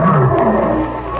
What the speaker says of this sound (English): That lion has sort of a human sound.